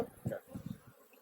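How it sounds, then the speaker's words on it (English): Agitated honey bees buzz around an opened hive during smoking and honey harvest, a short burst of close, uneven buzzing swelling and fading in a few pulses before dropping away. "It's like a kind of a more aggressive buzz now."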